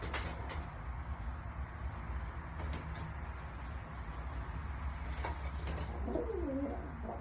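Pigeons in a rooftop loft coo with soft, low, rolling calls over a steady background hum and distant traffic rumble, and one clearer coo rises near the end.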